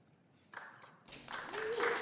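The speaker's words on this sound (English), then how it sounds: "Y'all don't need to clap for me" An audience at a congressional-style hearing on Pakistan breaks into applause, starting scattered and then swelling into steady clapping that grows louder, with a voice heard over it.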